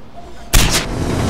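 A single loud, close gunshot from the video game Far Cry 4 cracks out suddenly after a quiet moment, leaving a brief rumbling tail.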